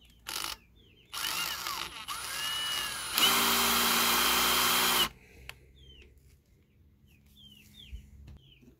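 An Einhell TE-CD Li BL cordless screwdriver drives a wood screw on torque setting 1 in short whirring bursts, then one longer, louder run. Birds chirp faintly outdoors once the motor stops.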